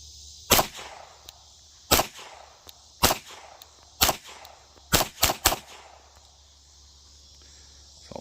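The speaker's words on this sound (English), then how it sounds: "So all 7 of those went off with some pretty good pop." Seven shots from a GSG 1911 .22LR pistol crack out one by one at an outdoor range, sharp and loud, the first five spaced about a second apart and the last two fired close together.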